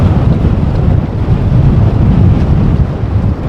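Strong wind at Amsterdam airport during stormy weather, a loud continuous low roar buffeting the microphone in uneven gusts, with no voices.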